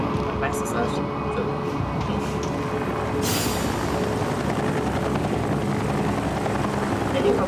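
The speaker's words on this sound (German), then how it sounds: "Helikopter." A helicopter in the video game Die Kunst des Mordens 3 drones steadily with a loud, continuous rotor roar throughout, while a person talks over it.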